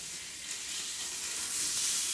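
Food sizzling on high heat in a pan for a healthy Italian bariatric recipe, a continuous bright hissing fry that swells slightly louder toward the end, close and steady with no talk.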